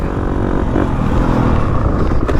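A two-stroke dirt bike engine revs loudly up close, a steady buzzing drone that rises and holds without pause.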